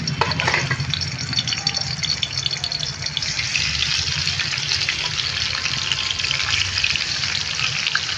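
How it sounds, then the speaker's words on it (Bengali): Vetki fish bones fry in very hot mustard oil, giving a loud, continuous crackling sizzle with a steady hiss and occasional pops, close and uninterrupted. "মাছগুলো ভালো করে ভেজে নেবো আমি প্রথমে।"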